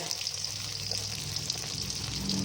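Fish coated in chili powder, turmeric, ginger-garlic paste and lemon juice frying in hot oil, giving a steady, even sizzle with a bright hiss throughout and no break.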